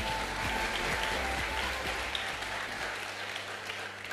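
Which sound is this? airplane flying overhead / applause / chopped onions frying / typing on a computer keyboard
applause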